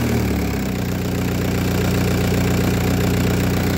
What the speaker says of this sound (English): All I have left is to do one of these, and then the engine will fire up.